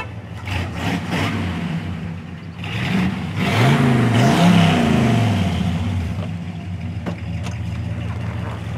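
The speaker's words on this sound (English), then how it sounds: "today we're gonna check out and test drive this 1966 Chevelle Convertible" A 1966 Chevelle Malibu convertible engine revs up on a test drive, building to a louder surge midway with a rising and falling pitch before settling back, steady and close, with no talk over it.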